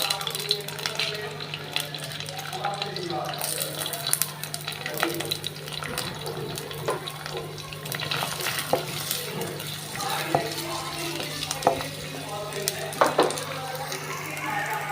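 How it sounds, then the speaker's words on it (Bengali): Oil and onion sizzle in a wok with a little leftover water for a dried fish bhuna, giving a continuous crackling, bubbling fry with stirring scrapes and a low hum, while a voice talks over it. "এই যে আমি এখানে তেল দিয়ে দিব এখানে আর পেঁয়াজটা দিয়ে দিব"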